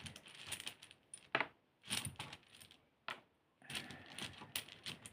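Small dice tumble from a hand onto a hard surface, several short bright clattering bursts separated by quiet gaps, faint and close.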